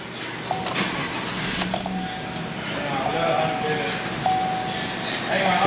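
A car being restarted after a power steering assist warning and a melted battery: a starter crank and engine catching, followed by a faint steady whine from an electric motor, with a voice speaking briefly over it.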